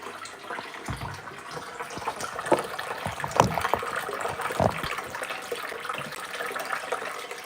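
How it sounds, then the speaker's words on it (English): Tap water runs and splashes in a sink while dishes are washed up, with uneven gushes and clatters over a continuous wet hiss, fairly close and with no voices. "Do a bit of washing up."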